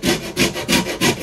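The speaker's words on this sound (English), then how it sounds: "The first thing to do is to remove the zest from the lemon" Four rhythmic rasping strokes of a lemon scraped across the fine side of a metal grater to remove untreated zest, close and steady with no talking.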